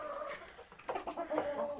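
A chicken clucks and murmurs close by in a series of short, uneven calls with light farmyard background noise.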